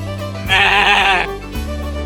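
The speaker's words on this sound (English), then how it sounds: "This is a goat." A goat gives one loud, wavering bleat near the mic, with a quieter murmur of background sound before and after it.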